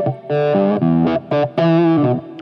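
An electric guitar plays through a Blackstar ID:Series amp with its tone control rolled off, giving a warm, rounded lead phrase of sustained notes and short breaks, loud and close.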